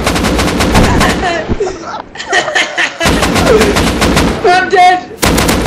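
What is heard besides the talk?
gunshots in Rust video game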